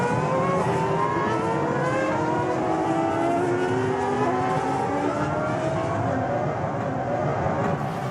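Formula One cars at the night Singapore Grand Prix, several high-pitched engines whining and sweeping in pitch as they rev and pass, loud and continuous with a crowd-like roar beneath.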